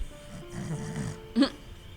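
A person imitates the trunk-snore of a sleeping, face-down character in a tabletop game: a single short, nasal snort burst near the end, after a quiet murmur of background talk.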